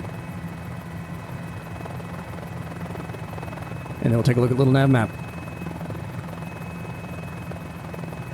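A Mini-500 helicopter in Microsoft Flight Simulator flying over Lubbock, Texas, its engine and rotor drone steady and continuous, with someone briefly talking over it partway through.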